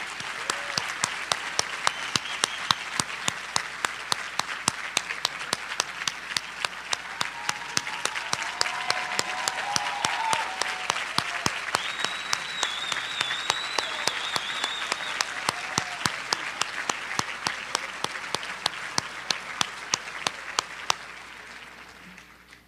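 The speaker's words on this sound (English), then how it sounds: "Let's give them all another round of applause." Sustained audience applause at a high school top seniors recognition ceremony honoring senior candidates, steady dense clapping that fills the room for about twenty seconds before stopping abruptly.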